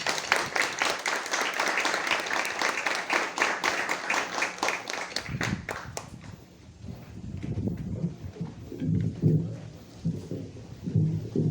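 Crowd applause at a fourth-anniversary celebration for the band, a dense burst of clapping for about six seconds that then fades into murmuring room noise.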